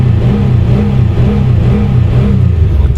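A cold 1998 Monte Carlo engine revving and holding steady near 4,000 RPM, a constant loud mid-pitched drone with a low rumble, no voices.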